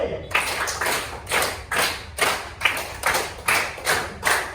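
A classroom of children claps a hand rhythm together, ten crisp group claps in an even, steady beat, loud and close, with no talking over them.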